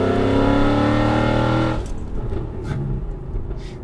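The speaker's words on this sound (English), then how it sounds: "those are very good noises. And that is old school V8." A 2007 Mercedes W211 E63 AMG naturally aspirated V8 with aftermarket headers revs hard and loud, a rich sustained roar for under two seconds before dropping off into a rumbling idle with a burbling exhaust.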